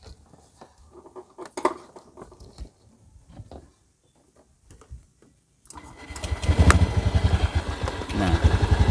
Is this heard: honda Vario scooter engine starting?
yes